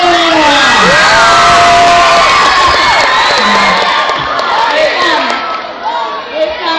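Loud crowd at a school rap competition cheering, shouting and whooping for a team of teachers. Many high, excited voices overlap throughout, easing slightly near the end.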